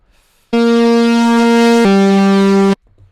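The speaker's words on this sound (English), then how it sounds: "So very noisy, very distorted." A loud, buzzy wavetable synth preset tone in Ableton Live with harsh distortion holds steady for about two seconds, then drops slightly in pitch before cutting off abruptly.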